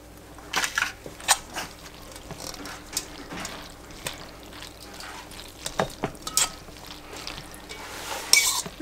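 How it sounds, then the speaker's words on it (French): Pasta, bacon lardons and cheese stirred together in a baking dish for a coquillettes gratin, giving soft wet squelching scrapes and a few louder clinks against the dish, close and fairly quiet with no talking. "Et là en fait il n'y a plus qu'à tout mélanger"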